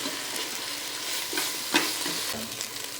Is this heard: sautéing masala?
yes